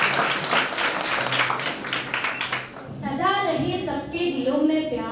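An audience at the NAB Uttarakhand 2021 annual function claps loudly in a dense, sustained round of applause for about three seconds, then fades as a voice begins over the room.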